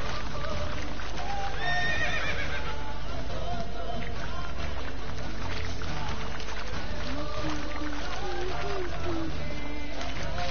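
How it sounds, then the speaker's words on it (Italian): A horse whinnies in The Witcher 3 amid game music and ambience, with a neigh standing out early and then faded calls and hoof sounds under a continuous background. "Dai, che sennò il cavallo si spaventa."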